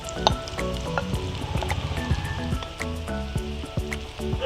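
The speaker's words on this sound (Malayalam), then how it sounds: "എണ്ണ ചൂടായി വരുന്ന ഒരു സമയത്ത് നമുക്ക് അരിഞ്ഞു വെച്ചിരിക്കുന്ന 2 സവാള ഇതിലേക്ക് ആഡ് ചെയ്ത് കൊടുക്കാം." Two large-cut chopped onions go into hot oil in a pan, hissing with a continuous sizzle and wet crackle, close by, with a tonal background running underneath.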